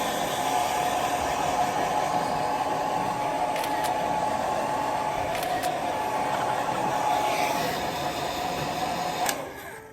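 A hair dryer blows in a quiet room in Japan, with hair freshly treated with conditioner. A steady, close, fairly loud whooshing hum holds for the whole stretch, with a few faint clicks, and it cuts off near the end.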